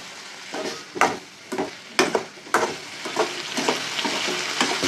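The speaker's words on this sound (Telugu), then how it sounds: "దొండకాయ టమాటా పచ్చిమిరపకాయ వేసాం కదా, ఇవి వేగాలి." Tindora, tomato and green chili frying in a pan, close sizzling broken by several sharp scraping stirs of a spatula at an uneven rhythm.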